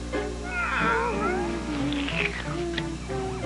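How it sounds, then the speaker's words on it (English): A cartoon cat meows in a long, wavering, high call near the start, followed by softer mewing cries over a steady background hum, with no talk over it. "Oh, there's a cat."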